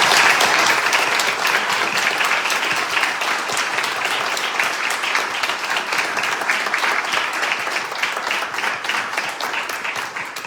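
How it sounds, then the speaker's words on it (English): Steady, dense applause from a large crowd, loud and sustained throughout with no talking, fading only slightly toward the end. "Let's give them a round of applause."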